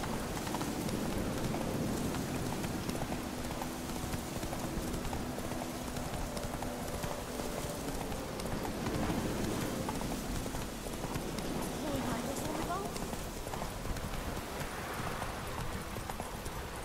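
Horse hooves clip-clopping at a gallop in The Witcher 3, a steady rapid beat running throughout over rainy, windy background ambience, with brief spoken words from a rider.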